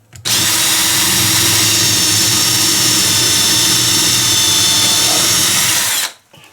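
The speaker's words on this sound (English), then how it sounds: "So we're going to drill into this hole right here because I know I have a stud there." A power drill bores a pilot hole for a lag screw into a wall stud, running as one loud, steady high whine for about six seconds, close up with no talk.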